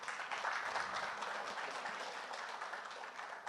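Applause from the audience at a TiECon Surat tech entrepreneurs event, a dense, even patter of many hands clapping heard at a distance and fairly faint, with no clear speech.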